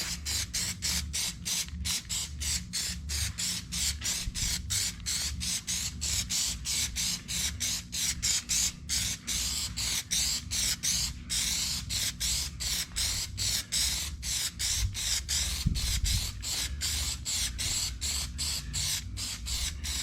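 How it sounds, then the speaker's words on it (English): Aerosol can of Plasti-Dip rubber coating sprays a second coat onto a vehicle roof drip molding, a steady close hiss broken by rapid regular pulses of short bursts, with no talking. "So we're gonna do the second coat real quick. Shake it up, shake it up, shake it up."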